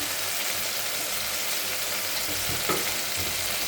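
Spice paste frying in oil for prawn malai curry, a continuous close-up sizzle with a brief scrape of stirring partway through.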